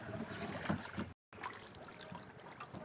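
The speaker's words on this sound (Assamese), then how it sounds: "নৌকাখন যাই আছে পুৰা স্পীডত" A rowboat speeds along the Brahmaputra river, its steady rush of water and wind noise filling the scene, broken by a brief dropout before the flow resumes.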